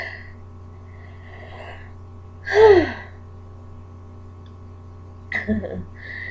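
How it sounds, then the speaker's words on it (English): Someone winded from climbing stairs gasps sharply and loudly once, then gives a second, shorter breathy gasp a few seconds later, with quiet steady background hum between them. "let me catch my breath a minute"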